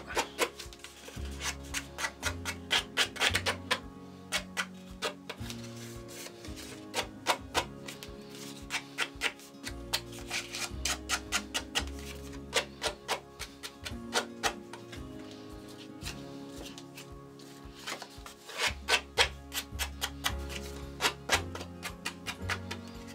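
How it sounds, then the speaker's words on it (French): Card backgrounds are scraped and distressed by hand at a craft table, giving close, irregular scratchy strokes and small ticking clicks in uneven bursts over a quiet room with faint low hum. "Je vais les gratter et les distresser."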